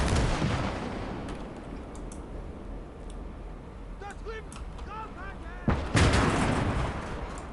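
Artillery fire on a World War II Eastern Front battlefield in the game Call to Arms: Gates of Hell, with rumbling booms under steady battle din and one loud, close blast near the end.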